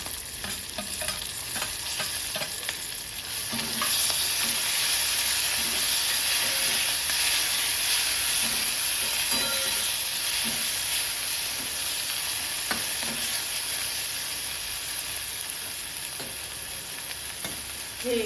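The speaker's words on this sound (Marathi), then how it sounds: "आता आपण हा चिरलेला टोमॅटो टाकून घ्यायचा." Chopped tomato sizzling and frying in a hot pan while dal is cooked, with steady steamy hiss and occasional stirring scrapes, fairly loud and continuous throughout with no talking.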